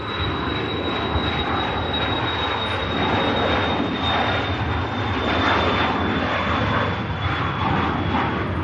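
A business jet takes off at Manchester Airport, its engines producing a steady loud roar with a sustained high whine throughout, heard from a distance without talk.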